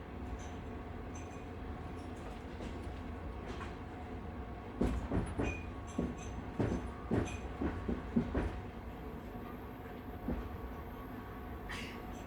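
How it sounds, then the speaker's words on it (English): A night train rolling through the Alps, a steady low rumble with a cluster of rhythmic clickety-clack wheel beats swelling in the middle, then easing back to a smooth hum, with no voices. "The train begins to slow."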